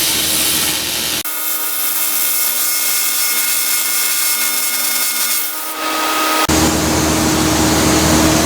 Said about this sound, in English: Now I'm just welding it's hanging down.